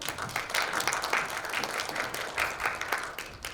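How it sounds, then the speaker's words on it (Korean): A conference audience applauds the presenters seated on stage at a session on media literacy, a dense, continuous burst of many hands clapping at moderate distance. "무대에 앉아 계신 오늘의 발표자 분들께 큰 박수 부탁드립니다"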